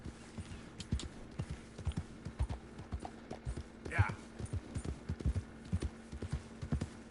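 Horse hoofbeats in the video game Red Dead Redemption clip-clop at a trotting rhythm, fairly close and moderately loud, with a faint whinny partway through over a low hum.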